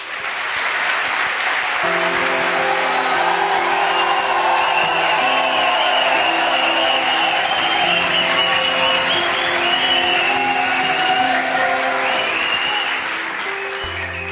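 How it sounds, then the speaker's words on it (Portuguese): Sustained studio audience applause on a television talk show, a dense, loud wall of clapping lasting the whole stretch, with a band playing underneath and no talking. "Un aplauso para Joao"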